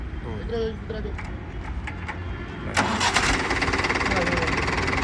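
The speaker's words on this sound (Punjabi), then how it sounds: "ਬਾਕੀ ਆਵਾਜ਼ ਨੂੰ ਚੈੱਕ ਕਰਿਓ ਟਰੈਕਟਰ ਦੀ" A 575 tractor's diesel engine cranks and catches around midway, settling into a steady loud rumble; people talk faintly in the background before it starts.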